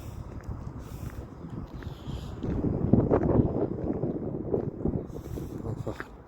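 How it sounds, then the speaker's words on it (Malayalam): Cold morning wind gusts outdoors on a walk through Kaifan, Kuwait City, a steady low rumble of wind noise against the microphone that swells midway and then eases slightly, with no talking. "നല്ല തണുത്ത കാറ്റുണ്ട് കേട്ടോ."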